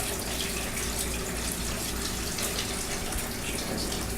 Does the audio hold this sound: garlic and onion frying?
no